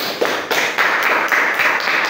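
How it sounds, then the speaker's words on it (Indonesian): Classroom applause from students, a run of short clapping bursts about every quarter second, fairly loud and steady with no talk over it. "Ya, berikan tepuk tangan."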